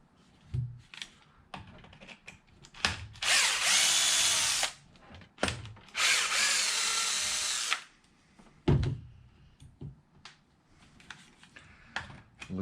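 A power drill whines in two sustained bursts as it removes the bottom differential bolts on an Arrma Kraton EXB RC car, with short clicks and handling noises between them.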